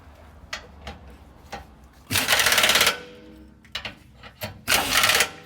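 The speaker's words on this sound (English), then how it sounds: "Put it on the impact, and are we forward?" A pneumatic impact wrench fitted with a 15/16 socket hammers Humvee bottom shock bolts in two short, loud rattling bursts, with lighter clicks and handling noises between them.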